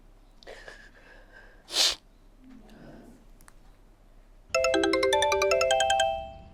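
A mobile phone ringtone chimes in a bright, repeating melodic pattern, loud and close, after a sneeze and a snort, faint breathing and room noise; the ringing breaks off at the end.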